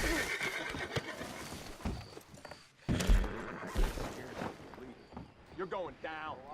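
Horse neighs and whinnies with clip-clopping hooves ring out in a video game, mixed with game effects and overlapping talk from players, loud and close throughout.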